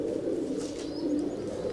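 Star pigeons of a prized racing line cooing steadily at close range, a low continuous murmur with no talk over it.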